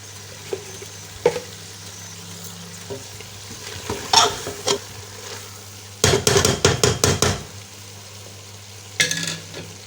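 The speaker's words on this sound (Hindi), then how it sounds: "अब मैं इसमें बिल्कुल थोड़ा सा आधा चाय का चम्मच ज़ीरा डाल दूंगी।" Cumin seeds go into hot ghee with fried black chickpeas in a pan, giving a low steady sizzle under sharp clinks and a quick run of scraping stirs from a spoon against the pan.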